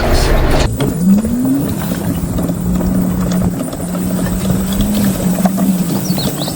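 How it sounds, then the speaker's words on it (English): A mini excavator drives back over bumpy wooded ground while hauling boulders, with a loud, steady engine drone that rises and dips in pitch, alongside rattling and clanking from the machine. "Now I'll bring the excavator back,"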